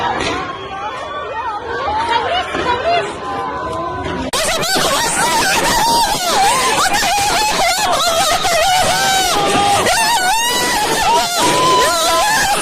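Screams and frantic crowd shouting during a night raid inside Al-Aqsa mosque, a loud continuous chaotic babble of many voices with wailing cries rising above it.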